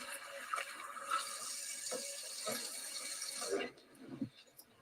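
A tap runs water in a home, a close, steady splashing stream that cuts off partway through, followed by a few faint clinks and handling noises.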